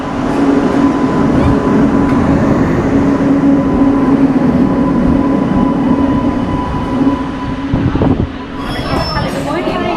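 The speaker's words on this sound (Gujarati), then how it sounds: "ટ્રેન આવી ગઈ" A passenger train pulls into a station on the Savarkundla–Mahuva line, its steady loud rumble and rolling wheel noise filling the scene, with faint squeal near the end and people talking nearby.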